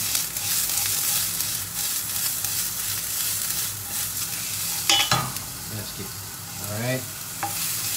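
Lap chong sausage and onions fry in their rendered oil in a hot pan, making a loud, continuous sizzle with occasional spatula scrapes and clanks. A voice speaks briefly near the end.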